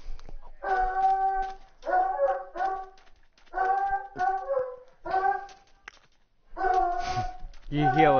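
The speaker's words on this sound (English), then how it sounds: "I hear a dog." A dog yips, whimpers and barks in short bursts, several tonal cries in clusters, fairly close, with a voice talking over part of it.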